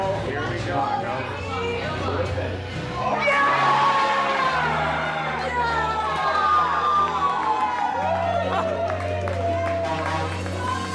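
Fans cheer loudly at championship point for a school team, a crowd roar with shouts swelling midway and holding steady through the clip, with voices mixed in.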